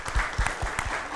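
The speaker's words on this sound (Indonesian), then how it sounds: "Tepuk tangan dulu buat semuanya." An audience at an outdoor disaster-response dialogue event on clean-water shortages applauds, close and loud clapping with distinct heavy claps in an uneven rhythm over a brief burst.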